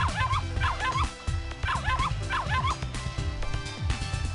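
Dog barking from the video game Ever17, a run of repeated yapping barks over a busy game soundtrack, steady rhythm, fairly close and moderately loud throughout.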